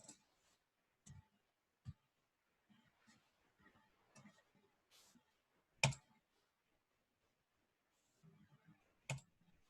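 Sharp mouse clicks on a computer, scattered and irregular, a few louder isolated clicks among faint desk handling noises, close and fairly quiet with no talk.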